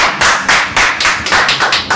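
A small group claps in a steady, rhythmic beat of about eight crisp claps in two seconds, loud and close, with no talk over it.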